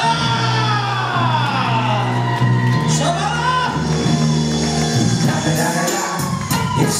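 Guests at a celebration clap and cheer, loud shouts and whoops rising over a steady crowd roar, with a hum of music or voices underneath throughout.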